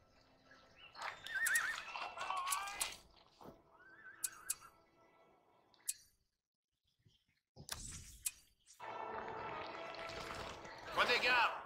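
Horses neighing and hooves clopping in the real-time strategy game Battle for Middle-earth II during a Helm's Deep skirmish. Loud whinnies and hoof sounds come in bursts, separated by a brief silent gap.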